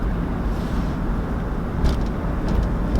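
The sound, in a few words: Houston road traffic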